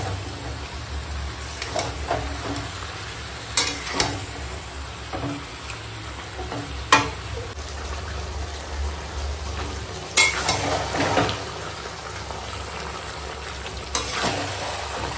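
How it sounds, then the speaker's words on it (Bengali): Goat meat coated in ginger, garlic, onion and yogurt sizzles in a pan, with a steady fry broken by repeated scraping and clinking of a spoon as it is stirred, close and moderately loud. "মাংসটা সুন্দর করে বেশ কষাচ্ছি"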